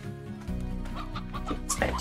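Chickens cluck in a short burst in the Slime Rancher video game, close and clear, with game sounds behind them.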